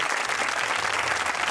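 Steady applause from a mushaira audience at an Eid comic poetry gathering, a dense continuous wash of many hands clapping at moderate distance throughout.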